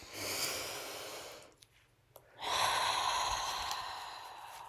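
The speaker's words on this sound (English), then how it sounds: "let's take a deep breath" A deep breath drawn in slowly and let out again, close and clear, with a short quiet pause between the inhale and the long exhale.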